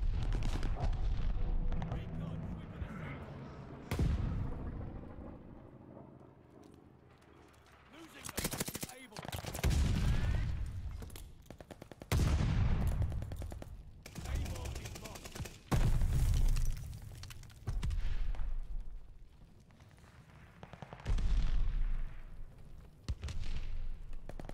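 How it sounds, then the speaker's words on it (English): Rapid bursts of STG44 gunfire in the Call of Duty Vanguard game, sustained automatic volleys broken by brief pauses and heavier blasts, loud and close, with a voice talking over it. "I don't stop shooting."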